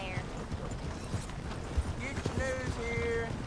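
Horse hooves clip-clop steadily on the ground in Red Dead Redemption 2, a moderate rhythmic trot under background ambience and distant voices.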